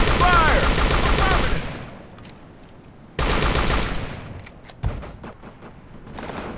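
Gunfire in the video game Operation Flashpoint: Dragon Rising, loud bursts of suppressing fire that cut off, then resume, with booming impacts ringing out between volleys.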